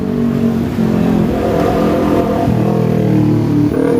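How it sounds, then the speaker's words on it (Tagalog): Heavy, congested street traffic with car engines idling and revving close by, a loud continuous mechanical drone whose pitch shifts as vehicles move off and change gear. "Ang traffic mga kabayan, ang traffic."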